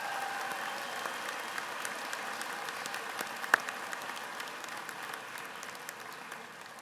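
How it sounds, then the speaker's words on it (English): Audience applause for graduates at a 2014 community college graduation ceremony, a steady, fairly faint wash of clapping from a large crowd that holds evenly for about seven seconds without talk. "Let's give our outstanding graduates another round of applause"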